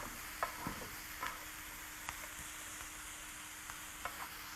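Vegetables sautéing in a pan, a faint, steady low sizzle with occasional soft stirring taps and clicks, no voices.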